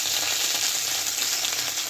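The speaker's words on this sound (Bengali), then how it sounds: "তেজপাতা আর জিরেটা ফোড়ন দিয়ে দিলাম" Bay leaf and cumin crackling in hot oil as a tempering for a potato and pointed gourd curry, a dense continuous sizzle heard up close, steady and unbroken for the whole stretch with no voices.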